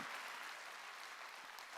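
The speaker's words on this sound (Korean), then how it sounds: "박수로 하나님께 영광을 돌려야 될 거 아니에요." Steady applause from a church congregation during a Sunday worship service, a continuous wash of many hands clapping, faint and distant throughout.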